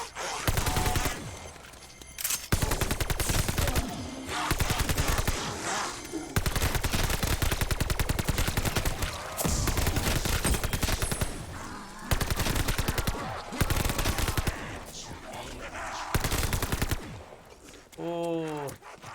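Video game gunfire while shooting zombies, long loud bursts of rapid automatic fire separated by short pauses, with a voice talking between the bursts.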